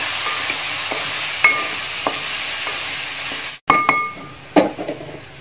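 A spoon stirs a bilimbi pickle mixture of cut bilimbi with salt in a pan in a home kitchen, giving soft scrapes and a few clinks against the vessel, brief pauses between strokes and a louder clatter near the end.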